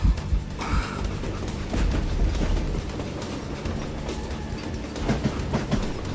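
A moving train in the Western video game Call of Juarez: Gunslinger gives off a steady, rumbling rattle with faint clatter. The sound is continuous and mid-level, with no voices over it.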